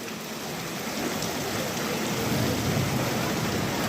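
Rain falls on a Pakistani village with runoff water streaming, a constant broadband wash of drops and flow that swells slightly louder partway through.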